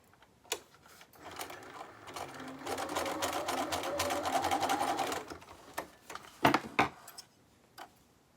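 A sewing machine bastes dress straps in place, a fast steady clatter of stitching for a few seconds, framed by soft handling clicks and fabric rustles before and after.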